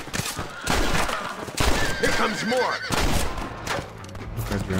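Rapid bursts of gunfire in Red Dead Redemption on PS5 crackle under a horse's whinny and someone talking in Portuguese, loud and close.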